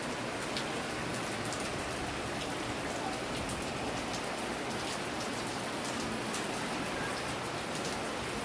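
Steady rain pours down outside a home, a dense, even hiss of drops hitting surfaces that runs unbroken and fairly close throughout.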